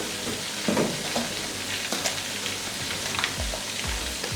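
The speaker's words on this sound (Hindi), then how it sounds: "और मसालों को 30 सेकंड के लिए फ्राई कर लेंगे" Spices—red chilli powder, turmeric and salt—sizzle and fry in hot oil for a degi biryani masala, a steady close crackling hiss with occasional stirring scrapes.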